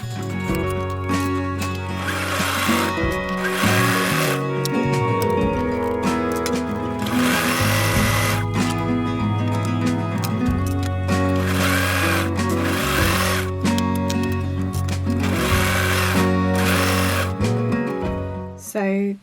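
A sewing machine stitches the drawstring casing on a fabric project bag, running steadily and loudly for most of the stretch in long continuous bursts with brief pauses, alongside a dense tonal backdrop.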